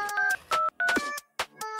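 A telephone keypad dials out a number, giving about five crisp touch-tone beeps in quick, slightly uneven succession, with brief gaps between them and no talking.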